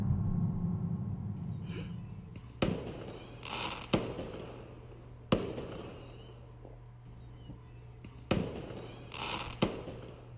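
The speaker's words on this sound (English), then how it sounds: "Today is the day of the big fireworks." Big fireworks display in the dragon visual novel Angels with Scaly Wings: rising whistles followed by a run of sharp booming bursts spaced a second or two apart, each crackling and fading, with no talk.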